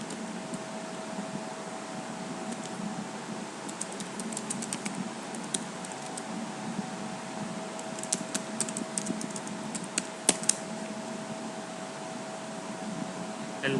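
Computer keyboard typing, scattered soft keystrokes in short bursts over a steady background hum, close but fairly quiet, no voices.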